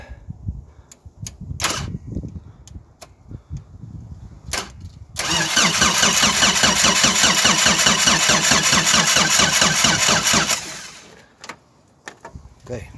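A VW Golf 1 engine cranks on its starter in a steady rapid chugging whir for about five seconds without catching, preceded and followed by clicks, clunks and brief talk nearby.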